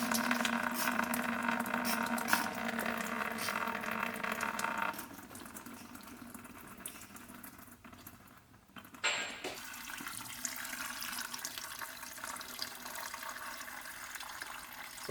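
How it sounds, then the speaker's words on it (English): Diesel fuel drains from a 3.0 Duramax fuel filter in a steady, quiet trickling flow that softens midway, briefly falters, then resumes as a continuous light pour. "We're going to let the fuel drain out of there now."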